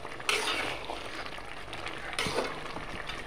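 Taro pieces and a fish head fry in a pan for murighonto with taro leaves, a soft continuous sizzle broken by scraping stirring strokes, close and fairly quiet with no voices.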